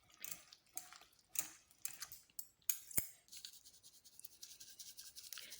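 Chicken pilau ingredients with vinegar and coriander leaves are tossed together in a bowl, giving a series of soft, wet clicks and scrapes in irregular bursts, close and fairly quiet, with no talking.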